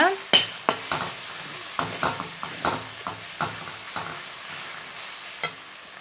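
A spoon scrapes and taps around a pan in irregular strokes, stirring spices for a soybean fry over a soft, steady sizzle of frying on a low flame.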